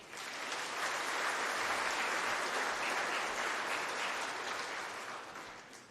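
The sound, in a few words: audience applause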